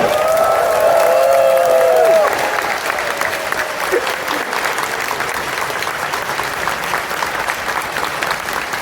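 Loud convention audience applauding and cheering at a furry convention opening ceremony, sustained dense clapping with whoops throughout, a brief tonal sound in the opening seconds.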